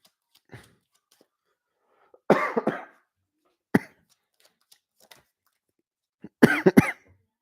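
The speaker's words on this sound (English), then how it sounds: "Sorry about the coughing, y'all." A person coughs in several separate bursts, each a short, harsh fit with quiet pauses between, ending in a cluster of rapid coughs; no talking is heard.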